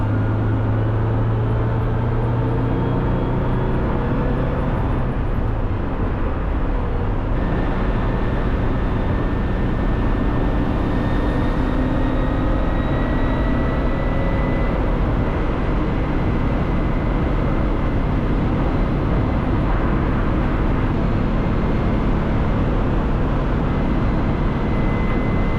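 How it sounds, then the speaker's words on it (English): Steady engine drone and road roar from a Porsche 911 cruising on a long road trip, a continuous close cabin hum with rising and shifting tones, no voices. "I was finally taking my Porsche 911 on my very first long drive in it"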